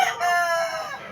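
A rooster gives a single short, loud crow close by, a bright strained call that rises and fades within about a second, heard alone.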